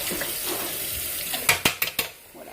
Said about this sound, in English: Let's rinse off the spoon.